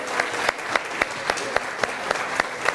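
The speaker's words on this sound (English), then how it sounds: "Let's give them a round of applause" Audience applause for fashion models shown off at a lecture on fashion and the automobile: steady clapping throughout with sharper peaks every half second, moderately loud, without talk over it.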